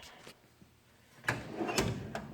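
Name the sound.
tool chest drawer opening or closing in a garage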